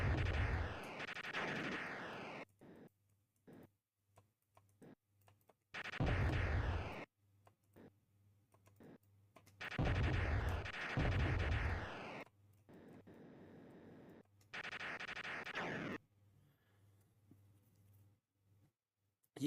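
Bursts of gunfire from an Amiga shooter arrive in separate loud volleys a few seconds apart, with near silence and a faint low hum between them.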